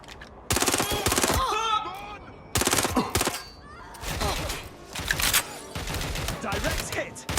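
Bursts of automatic gunfire in the Watch Dogs Legion video game, loud rapid volleys starting and stopping in several clusters, with shouted game voices between and over the shots.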